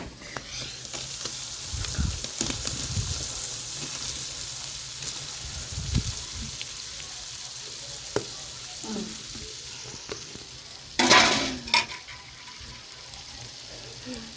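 Boiled potatoes sizzle and fry steadily in hot oil, with a spoon scraping and stirring through them in occasional bursts, close and continuous.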